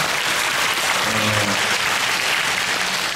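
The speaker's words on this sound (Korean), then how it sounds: "박수 주시죠." A film festival audience at a Korean screening Q&A claps in a sustained, full round of applause that fills the room evenly, with a faint voice briefly underneath.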